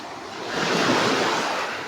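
Sea waves at high tide wash in as a broad, close roar that swells and then eases slightly, with wind buffeting the microphone.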